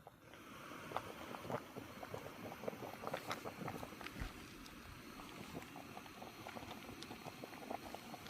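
Steady bubbling of water simmering around a bag of Prince's beef stew on a camping stove, a continuous rough boiling wash with small pops, close and constant, no talk.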